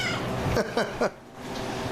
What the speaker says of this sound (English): Everybody loves kitties.